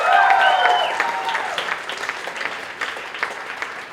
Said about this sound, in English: Let's hear it again for her.